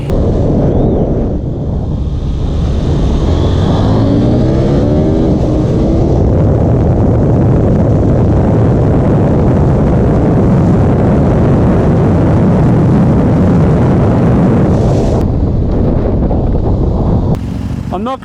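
A KTM 790 Duke and a Kawasaki ZX6R racing side by side, engines roaring loud and close under hard acceleration in sports mode, with wind buffeting over a continuous rising drone.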